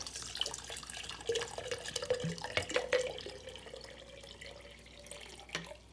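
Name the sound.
water poured into a glass jar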